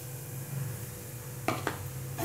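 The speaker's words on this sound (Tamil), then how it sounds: "அடுத்த ஸ்டேஜ் அந்த நெய்யிலேயே நம்ம ரவையை நல்லா வறுத்து எடுக்கணும்." Semolina roasting in ghee in a pan while making rava laddu is stirred, a low steady sizzle broken by two sharp scrapes of the spoon against the pan and a third near the end, close and moderately loud.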